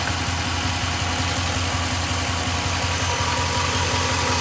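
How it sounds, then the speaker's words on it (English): A 2015 Ram 1500 pickup truck engine idles steadily, a loud, close, even mechanical drone with a fast rhythmic low pulse and broad hiss, no voices. "the truck's running pretty good right now"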